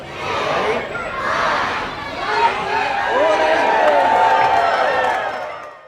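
Festive crowd at an outdoor Christmas tree lighting with Santa Claus leading a countdown, a steady murmur of many voices and cheering swelling and easing over several seconds.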